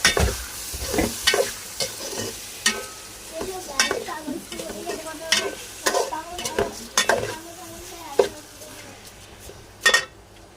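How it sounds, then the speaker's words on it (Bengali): Rice fries in ghee with cinnamon, cardamom, bay leaf and dried chilies, stirred briskly so that repeated spatula scrapes and clacks against the pan ring out over a continuous sizzle. "এখন চালটাকে আমি ভালো করে ভাজবো।"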